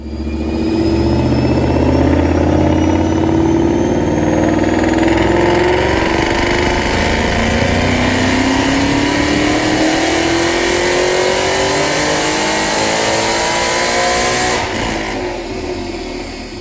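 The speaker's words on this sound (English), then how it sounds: "High RPM, this thing rips through the gears." Paxton-supercharged Mustang 5.0 with a Brenspeed Stage 3 package on a dyno revs hard and loud, rising steadily through the gears with supercharger whine, then backing off at the end; no talk.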